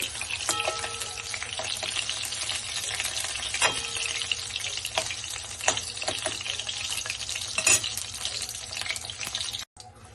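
Pieces of rohu fish frying in hot oil for a curd fish kalia, a dense close sizzle with scattered crackles and spitting pops, plus a few scraping stirs, before it cuts off abruptly near the end.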